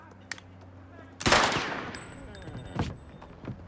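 A single gunshot in a Hungarian film scene, a sharp loud crack followed by a decaying rumble and echo, with a fainter second report shortly after.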